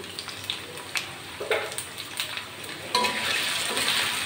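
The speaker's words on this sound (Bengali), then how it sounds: "আলুগুলো ভেজে নেব। আলুর ভিতর দিচ্ছি সামান্য একটু লবণ আর একটুখানি হলুদ।" Potatoes seasoned with salt and turmeric fry in oil in a pan with bay leaves, giving a steady close sizzle broken by a few stirring scrapes, growing louder and denser toward the end.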